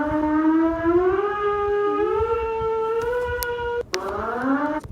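Czech emergency alert siren, a loud, sustained electronic wail with a steadily rising tone and a brief wobble, cut by a short break before resuming higher, with no speech.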